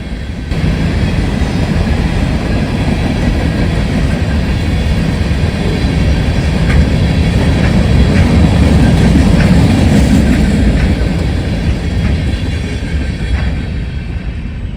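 A train led by a Guilford Rail System GP40 locomotive headed for the scrapyard rolls past in a loud, continuous rumble with faint rhythmic wheel clatter and steady rail noise, and no voices.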